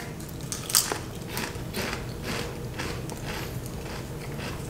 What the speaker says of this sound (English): Better get some crunching going on here.